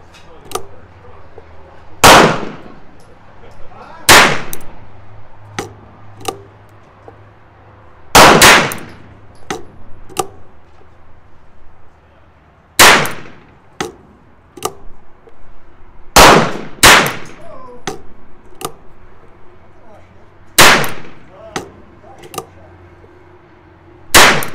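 Ruger Wrangler rimfire revolver firing Winchester ammunition outdoors, a series of about a dozen sharp, loud cracks spaced irregularly a few seconds apart, with faint background noise between shots.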